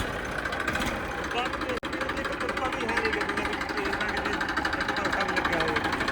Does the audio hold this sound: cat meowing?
no